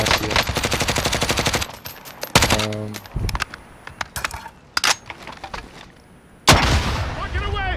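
Gunfire in Call of Duty Modern Warfare Warzone duos: a rapid automatic burst followed by scattered single shots and short volleys, loud and close, then another sustained burst near the end.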